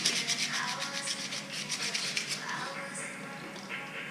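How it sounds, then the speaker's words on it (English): Wet sanding of primed wheel faces with 400 grit sandpaper dipped in water, a steady soft rubbing and scrubbing with repeated light strokes, close and continuous. "we're gonna wet sand this faces with 400 grit."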